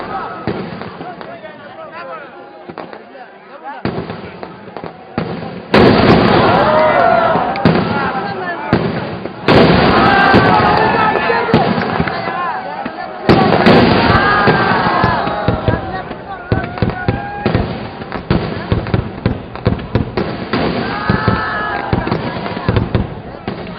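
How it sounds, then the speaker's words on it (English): Veddikettam, the homemade, hand-prepared fireworks of the Thrissur Pooram festival, explode in loud rolling volleys of cracks and booms. Heavy bursts return again and again between brief lulls, with a crowd and a narrating voice running beneath. "The Veddikettam, Thrissur's homemade, hand-prepared fireworks"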